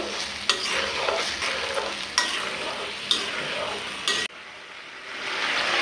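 Chili chicken sauce bubbling and sizzling in a pan, with a spoon rhythmically scraping and knocking the pan about once a second, close up, then the stirring stops and a softer, rising simmer remains.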